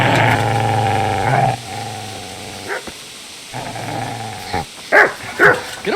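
In the game Kingdom Come: Deliverance, a dog growls in long rumbling stretches, then breaks into a few sharp, loud barks near the end, close up with no talk.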